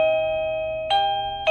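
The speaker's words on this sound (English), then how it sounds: "Okay, it is ready, and when you ring the bell," A wireless doorbell chimes its basic tone, a clear sustained electronic note ringing steadily, then two sharp bright strikes near the end as the chime repeats, close and alone with no talk.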